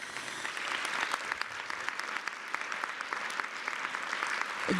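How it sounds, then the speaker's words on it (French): Dense, steady audience applause at a conference forum, many hands clapping in a continuous wash with no voices over it. "Je pense qu'ils méritent une bonne main d'applaudissements."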